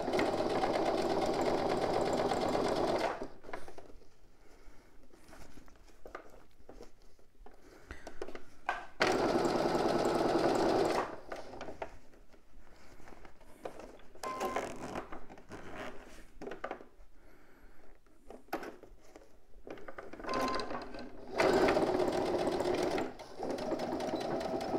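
A sewing machine stitching along a zip, running in loud bursts of rapid needle clatter separated by quieter pauses, close up with no speech.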